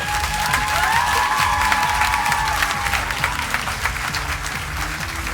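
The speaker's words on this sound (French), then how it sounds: "Oui, vous pouvez les applaudir, en effet." An audience at a June school concert applauds steadily with scattered cheers, a thick continuous clapping bed, while a faint tonal sweep and low hum sit underneath.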